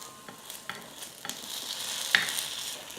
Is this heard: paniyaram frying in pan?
yes